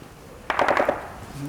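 A short burst of several quick gunshots cracks at middle distance near front-line trenches in Donbas, Ukraine, followed by quiet ambience and a faint voice.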